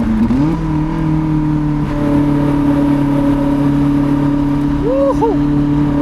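A Lotus Elise engine drones steadily and loudly from inside the car on the Sustenpass mountain road, with a brief pitch rise near the end.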